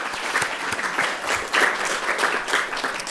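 Audience applause at a panel event, dense steady clapping from a room full of people with a few louder individual claps standing out.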